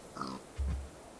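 A pig in a blocky survival video game gives a short nasal squeal followed by a low grunting oink, close and brief.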